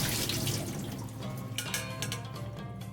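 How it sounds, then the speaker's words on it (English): Water runs and splashes into a kitchen sink as herring roe is drained, a steady close rush with small drips and clatters near the end. "Drain the water of herring roe."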